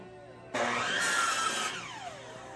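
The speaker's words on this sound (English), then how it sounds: "So I use a cheap palm sander instead of my good finish sander." A cheap palm sander works on recycled cedar boards, whirring up sharply to a loud, steady buzzing whine for about a second, then winding down as the pitch falls away.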